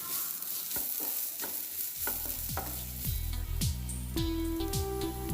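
Onions and green chilli being sautéed in a pan give a soft, steady sizzle broken by a few scraping stirs, close and quiet, with no speech.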